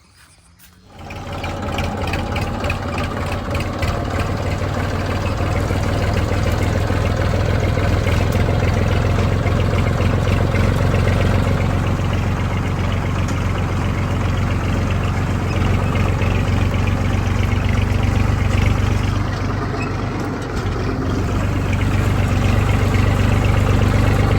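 A farm tractor pulling a cultivator runs with a loud, close, steady diesel drone that holds almost unbroken for the whole stretch, with no talk over it.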